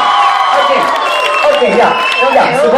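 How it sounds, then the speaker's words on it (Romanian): A crowd at a school ball dance battle applauds and cheers for the dance group G-Force, a loud, dense burst of clapping and shouts that holds steady with voices mixed in. "Aplauze pentru G-Force!"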